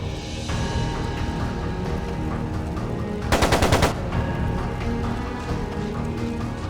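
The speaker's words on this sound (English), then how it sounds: "It sounded like a machine gun." Rapid machine gun burst in the video game Trails of Cold Steel 2, a short loud rattle of closely spaced shots rising out of a dense orchestral and ambient game soundtrack.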